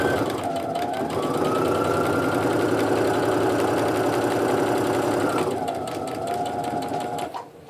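A sewing machine stitches quilt fabric along a drawn line, running in a loud, steady, close whir that shifts briefly partway through and then slows to a stop.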